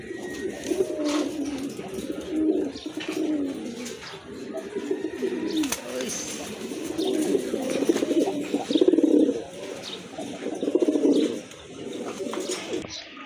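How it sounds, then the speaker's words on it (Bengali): Pigeons kept for sale coo in repeated low, throaty rolling phrases, close and fairly loud, with faint background noise and a few soft chirps. "আরেক জোড়া কবুতর দেখতে পাচ্ছেন"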